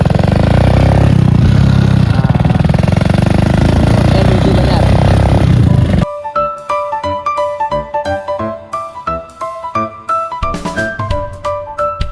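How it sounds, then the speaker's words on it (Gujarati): A kick-started motorcycle engine runs loud and close at a steady idle for about six seconds, then gives way to music. "મારી દીધી બાઇક ચાલુ કરી દીધી."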